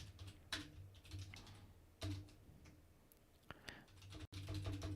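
Quiet bursts of typing on a computer keyboard, a few clusters of clicking keystrokes separated by short pauses, close and faint.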